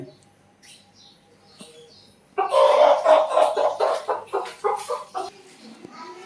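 A rooster clucks in a rapid, agitated series of squawks close by after a quiet start with faint background sounds, during a tribal Diwali ritual.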